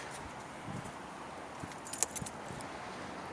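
Car keys jangle in brief, light metallic clusters near a 1993 Ford Mustang. The faint clinks come in a short burst against quiet background noise.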